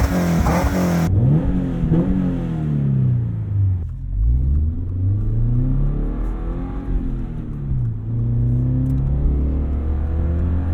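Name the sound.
2022 Subaru BRZ engine revving, raw exhaust noise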